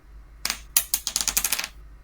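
Tabletop role-playing dice clatter and roll across a hard table up close, a quick run of sharp rattling clicks tapering to a stop, no talking.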